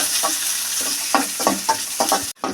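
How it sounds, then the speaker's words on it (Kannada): Mustard seeds, chopped onion and curry leaves sizzle in hot oil for a tempering, a constant frying hiss broken by repeated rhythmic scrapes of stirring, ending in a brief pause before the sizzle returns. "ಈರುಳ್ಳಿ, ಕರಿಬೇವಿನ ಸೊಪ್ಪು ಒಗ್ಗರಣೆಗೆ ಹಾಕ್ತಾಯಿದ್ದೀನಿ"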